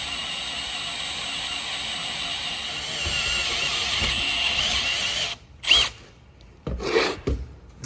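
A power drill whines steadily as the bit grinds into material, then stops and restarts in short bursts near the end.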